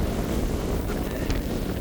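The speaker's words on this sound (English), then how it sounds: "It's too windy." Strong wind buffeting the microphone at a salt marsh nature trail in Brooklyn, a loud, continuous low rumble with gusty roar and no break throughout.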